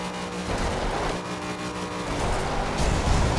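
Racing-game engine of a 1990 Mazda MX-5 Miata fitted with a naturally aspirated V8 in Forza Horizon 2, a continuous loud roar that builds slightly in intensity, with no talking.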